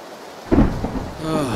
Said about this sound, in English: Fucking lightning.